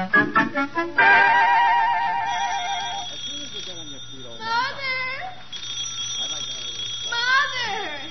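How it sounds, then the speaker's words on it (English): An old telephone bell rings at night as a radio drama sound effect, a short burst of rapid repeated rings up front, followed by people talking. "you phone's ringing."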